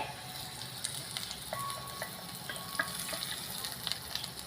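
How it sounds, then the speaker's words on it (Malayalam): Hot tempering is poured into a fish peera dish in a pan off the heat, setting off a steady close sizzle and crackle with light scattered pops. "ഇനി നമുക്ക് ഗ്യാസ് ഓഫ് ചെയ്ത് നമ്മുടെ മീൻ ബീരയിലേക്ക് ഇത് ചേർത്ത് കൊടുക്കാം നമുക്ക് താളിപ്പ് ചേർത്ത് കൊടുക്കാവേ"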